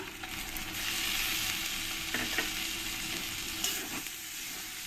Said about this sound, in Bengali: এবার এর মধ্যে দিয়ে দেবো আমি টমেটো